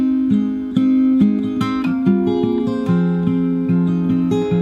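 Solo fingerstyle acoustic guitar plays the opening bars of the second part of the first verse of a song, with plucked bass notes and melody in a steady rhythm, close and clean with no talking.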